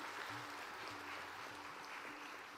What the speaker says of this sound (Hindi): आप सबसे निवेदन है कि ताली बजा के इसका स्वागत करें।